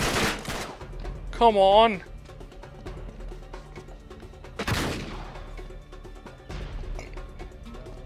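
AK-47 gunfire sounds in the video game Uncharted 3 during a castle shootout, with loud bursts among game sounds and someone talking and shouting over the action.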